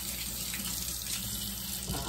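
Water pouring steadily into a pot to rehydrate potatoes, a continuous loud, close rush with no break and no talk.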